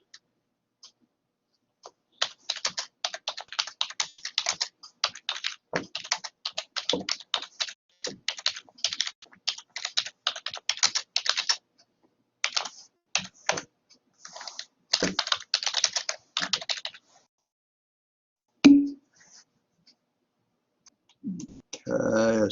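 Keyboard typing in quick, irregular bursts of close clicks, run together at times and broken by short pauses, with a brief louder thump near the end; a class session setting with no voices over the keys.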